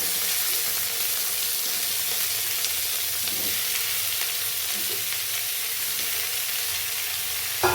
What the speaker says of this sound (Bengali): এর মধ্যে ভাজা নুন হলুদ দিয়ে ভালো করে ভেজে নেব নরম হওয়া অবধি